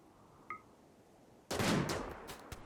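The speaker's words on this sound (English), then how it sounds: "The first few shots immediately connect and leave the Cougars bleeding" A burst of gunfire from hunting cougars in Rimworld breaks out suddenly after a quiet lull and a faint earlier tone, a few close, sharp reports running together with no one speaking.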